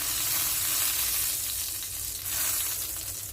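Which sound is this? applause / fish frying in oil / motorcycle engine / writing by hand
fish frying in oil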